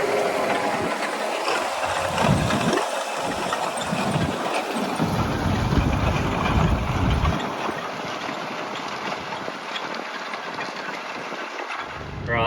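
A tractor ballasted with rear wheel weights idles at about 1400–1500 revs while ploughing sand on a farm, a steady low engine drone under heavy wind buffeting on the microphone, without talk.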